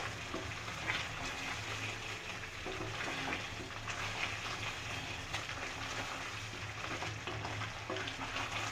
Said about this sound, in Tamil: இந்த கரம் மசாலா சேர்த்து நல்லா கலரி விடலாம்